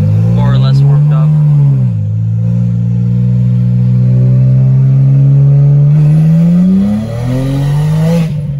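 A BMW 335i with upgraded turbos and open downpipes pulls hard from inside the cabin, its loud engine note climbing steadily through the revs with brief dips at gear changes.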